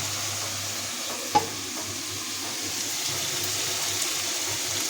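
Pointed gourd and potato curry cooking in a pan, a steady soft sizzle and bubbling with a single brief clink partway through, no talk.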